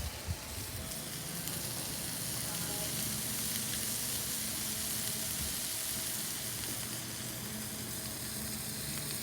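SPAM sizzling and frying in a mess kit while cooking outdoors, a continuous crackling hiss that holds loud and steady throughout with no voices.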